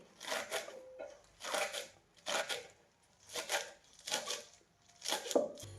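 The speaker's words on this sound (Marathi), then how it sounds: "मी अशी कापूनच घेत असते मेथी" Fenugreek leaves being finely chopped with a knife on a board, six quick bursts of rapid chopping separated by short pauses, close and moderately loud, with no talk.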